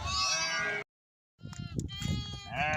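Sheep bleat at their pen in the evening, with loud, wavering calls close by, a brief silent break, then several overlapping bleats from the flock amid shuffling and background noise.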